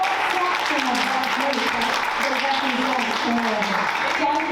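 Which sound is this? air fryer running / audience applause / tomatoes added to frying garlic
audience applause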